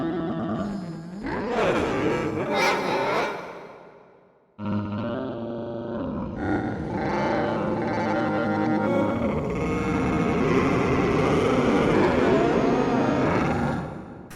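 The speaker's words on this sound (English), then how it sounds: "Maybe give this a reverb." A dense, distorted synthesizer tone made with additive and granular synthesis swells and roars with long reverb tails, breaking off briefly before resuming as a loud, continuous wash.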